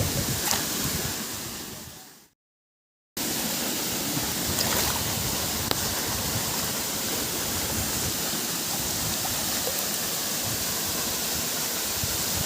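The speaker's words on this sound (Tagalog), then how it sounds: "nandito na tayo ngayon sa tinatawag na Arapay Falls" Arapay Falls roars with a constant, dense rush of water, broken by one brief moment of silence near the start.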